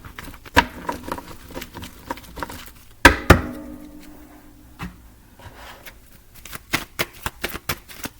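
Tarot cards shuffled by hand, a run of crisp riffling flutters and soft slaps, with two louder bursts of cards bridging mid-way and quick pats near the end, all close-up with no talking.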